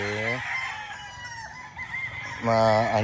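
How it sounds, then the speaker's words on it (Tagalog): Chickens and roosters on a farm, a loud rooster crow at the start and another at the end, with clucking and a voice in between. "Mga gwapong mga manok."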